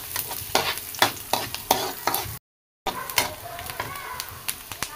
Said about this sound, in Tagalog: Maglagay na po tayo ng mantika. Maglagay na po tayo ng sibuyas at bawang.